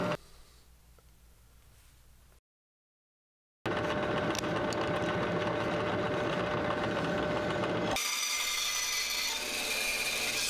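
Drill boring through a wooden board taped on the back side, a low rumble, then a short silence, then a loud sustained grinding whine that brightens near the end as the bit breaks through.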